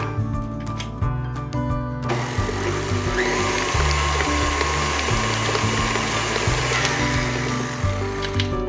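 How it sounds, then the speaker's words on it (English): A Mixmaster stand mixer blends French toast filling with a steady mechanical whir and a looping, rhythmic churn that grows louder and fuller after a couple of seconds. It runs close and unbroken, with no talking over it. "We'll give it a few turns of the mix master."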